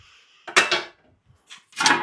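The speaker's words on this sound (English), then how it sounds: "Look at that little frying pan." A small aluminum frying pan is handled, giving a couple of short clattering metallic bursts with a brief quiet gap between them. The sounds are close and fairly loud, with no talking.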